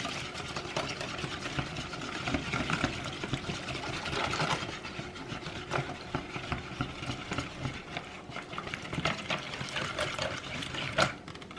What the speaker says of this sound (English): And then you're going to mix it all up.